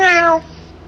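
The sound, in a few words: cat meowing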